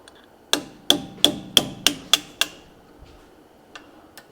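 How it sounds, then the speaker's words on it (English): Seven sharp metallic hammer strikes punching pins out of an Ate brake caliper ring out in a steady rhythm, followed by a few lighter taps, close up in a quiet space. "I took a hammer and punched the two pins out on this Ate caliper"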